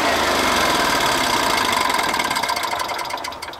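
A gasoline generator runs after a pull start with the choke being adjusted, a loud steady mechanical engine chug close by that fades slightly toward the end.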